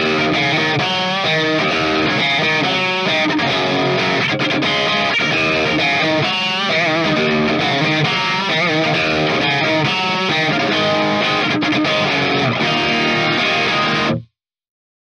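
Heavily distorted electric guitar through an Amped ML800 2.0 amplifier model plays a continuous, crunchy riff with dense chords, loud and up close, before cutting off abruptly.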